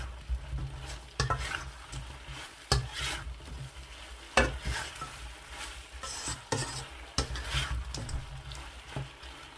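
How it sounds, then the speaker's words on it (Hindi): Fried chicken pieces being stirred and tossed into a Korean spicy sauce in a pan, with repeated scraping and sticky stirring strokes over a soft sizzle, close and fairly quiet. "चिकन जो है फ्राई किया हुआ वो इसमें आपने ऐड कर देना है और फौरी तौर पर अच्छी तरह से जैसे मैं मिक्स कर रहा हूँ"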